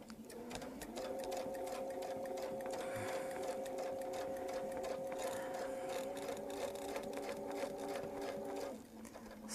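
A quilting machine stitching a small Baptist fan pattern, a steady, fairly quiet mechanical hum with a fast stitching rhythm that runs continuously and then stops near the end.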